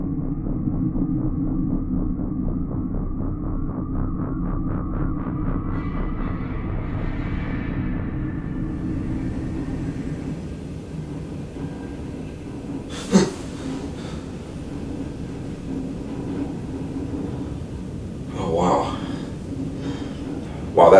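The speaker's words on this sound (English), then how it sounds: "Wow, that train going by, it really shakes the whole place." Freight train passing near an old jail building, a low rumbling drone with a rhythmic clatter that slowly fades, followed by a few sharp knocks and rattles.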